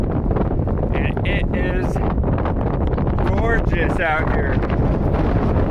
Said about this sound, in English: A little windy, but gorgeous.